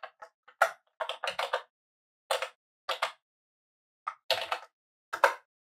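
Keys on a computer keyboard clatter in quick, irregular bursts of crisp taps with short pauses between words, close and fairly quiet while text is entered in a web page builder.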